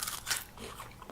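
A crisp bite into an orange-flavoured Japanese Kit Kat wafer bar, a short close crunch followed by faint chewing, with no talk.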